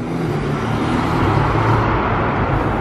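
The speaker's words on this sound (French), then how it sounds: "Les valves elles se sont ouvertes dans le tunnel." A supercar's exhaust roars inside a road tunnel with its valves open, a steady loud, booming drone echoing off the walls for a few seconds with no talking.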